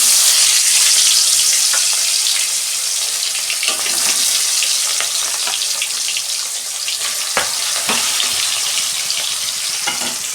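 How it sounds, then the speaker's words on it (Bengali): Fish fries in hot oil in a wok with a loud, continuous sizzle and crackle, broken by a few sharp pops and clinks. "প্রথমে মাছগুলো ভেজে নেব।"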